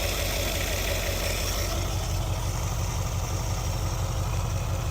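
A 1973 Ford Econoline E200 engine idles just after a carburetor tune-up, a loud, close, steady low rumble with an even pulsing rhythm and no talking.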